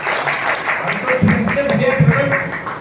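An audience applauds in a brief, soft patter of clapping that runs under a voice speaking over it.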